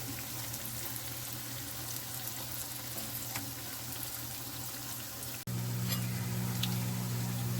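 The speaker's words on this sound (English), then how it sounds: "So it's like you're French frying your tofu" Steady crackling sizzle of tofu frying in hot oil, with small pops; the sizzle grows louder partway through.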